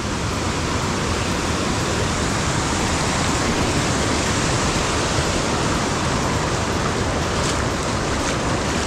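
River rapids and a waterfall roar in a dense, steady rush of white water at Barra do Garças, loud and unbroken throughout, with no voices.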